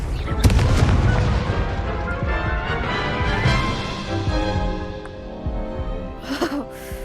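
Confringo blasting spell explodes in Hogwarts Legacy on PS5: dense, loud booming burst with rumbling, crackling impacts layered over game music, fading slightly toward the end with a few sharper hits.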